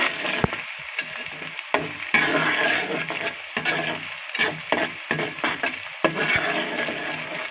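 Bay leaves and spices brown in hot oil for a homestyle beef bhuna, crackling and sizzling close by while a spoon stirs and scrapes in uneven bursts.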